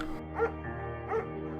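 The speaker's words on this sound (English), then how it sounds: "There's also an intimidating but gentle-eyed German shepherd." A German shepherd in the video game Firewatch gives two short, moderate barks about three-quarters of a second apart over a steady humming game background.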